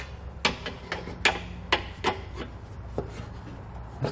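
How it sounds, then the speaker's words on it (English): A pry bar works a rubber exhaust hanger loose under a 2017 Chevrolet during a hitch install: a string of sharp, separate metallic snaps and creaks, close and moderately loud, each burst brief with short pauses between. "Using our pry bar to pry it off there."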